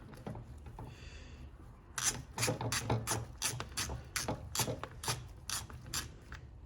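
A screw is driven by hand into the handle of a Craftsman hedge trimmer, a rapid series of close, crisp ratcheting clicks after a brief quieter start, with no speech.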